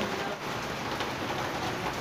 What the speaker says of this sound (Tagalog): Lakas ng ulan dito, guys.